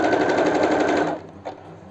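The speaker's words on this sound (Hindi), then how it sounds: "हमने अच्छे से इस पर सिलाई कर दिया" A sewing machine stitches a Bombay cut blouse in a fast, steady mechanical whir lasting over a second, then stops, leaving a faint brief clack and quiet room tone.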